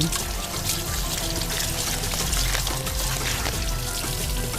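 Water pours steadily in a home kitchen while a bowl is washed during the making of a cheese-filled dough pastry, a continuous splashing run with faint background clatter and no talk.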